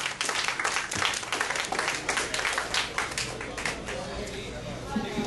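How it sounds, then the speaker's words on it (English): A comedy club audience gives a round of applause for comedian J-Dog as he takes the stage: dense, steady clapping throughout, moderately close, with a few voices mixed in. "Give him a high touch round of applause, you guys."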